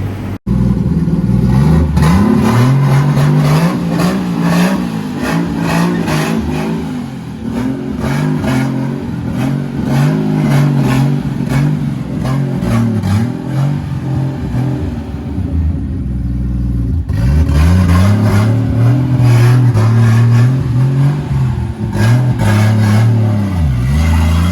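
A car engine revs hard on a dyno in repeated loud pulls, its pitch sweeping up and dropping back in cycles with a heavy low rumble, a brief pause, then another strong run.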